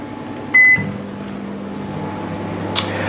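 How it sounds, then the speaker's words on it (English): A microwave beeps once, then its low steady hum starts up and runs continuously, with a faint click near the end. "that goes in the microwave for 30 seconds because you want it warm"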